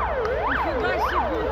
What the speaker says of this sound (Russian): Там вот скорая летит с полицией.